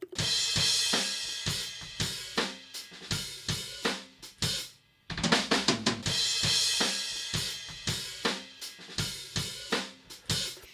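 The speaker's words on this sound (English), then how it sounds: "So here are the rooms by themselves, no processing on them." A full drum kit recorded by room microphones alone, unprocessed, played in a steady groove, with roomy, distant-sounding hits and cymbal wash, briefly pausing midway before resuming.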